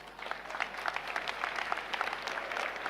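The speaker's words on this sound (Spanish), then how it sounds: "Vamos a aplaudir a Jesucristo." A church congregation at a Spanish-language service applauds, producing dense, lively clapping from many hands that holds steady and fairly close throughout.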